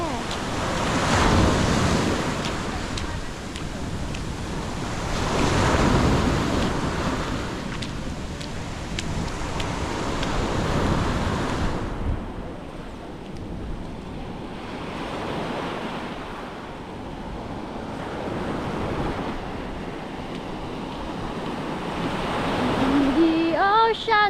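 Ocean waves roll onto Thongson Bay beach on Koh Samui, Thailand, in steady surging swells with a constant wash of surf and wind noise. A brief voice comes in near the end.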